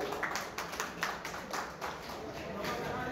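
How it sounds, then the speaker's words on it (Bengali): Clapping from an audience at an annual association conference in Bankura, a steady patter of many hands beneath a roomy hall ambience. "একটু জোরে হাততালি হবে।"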